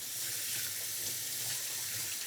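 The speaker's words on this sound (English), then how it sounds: "I'm gonna wash my hands." Tap water runs steadily into a sink while hands are washed in a home kitchen, a continuous close hiss with no voices over it.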